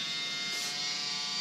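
Freshly oiled electric hair clippers, used for a men's haircut, run at high speed with a steady, close, loud buzz that holds constant throughout, with no talking.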